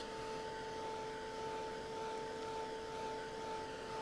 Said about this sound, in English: I'm going to dry that really well